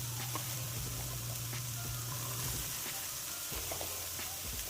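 Minced onions, about half a cup, sizzle in a pan on high heat, a steady low frying hiss with faint stirring clicks throughout, close and with no talking.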